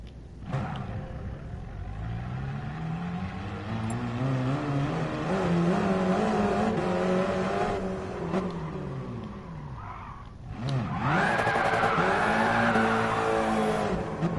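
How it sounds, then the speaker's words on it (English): Race car engine in Gran Turismo Sport revving hard through a wheelie run, a loud sustained rising-and-falling roar with skidding tire squeal, a brief dip near ten seconds, then a fresh high-pitched burst of revs. "I'm going for big wheelies."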